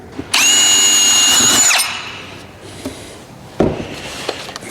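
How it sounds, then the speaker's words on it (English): A power drill bores a hole in wood for a wall decor build: a loud, near whine that rises and holds for about a second and a half, then stops, followed by quiet handling and a short rub. "So now we'll drill us another hole here."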